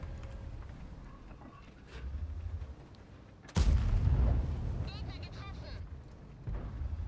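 A tank gun fires in World of Tanks, a video game, with one sudden heavy boom midway through. The blast rings out over low engine rumble and some background game noise.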